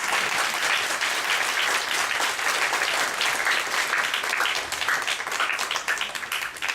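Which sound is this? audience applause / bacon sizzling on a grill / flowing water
audience applause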